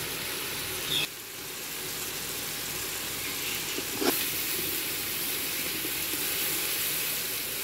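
Tomatoes with salt, red chilli and garam masala frying in a pan for chicken pulao, a steady soft sizzle and hiss running throughout with a couple of brief clicks, no talking.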